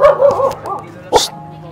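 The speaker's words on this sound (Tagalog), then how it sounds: "Ayan, may aso." Close dog yips and whines give way to a single loud, sharp bark, with faint background sounds in between.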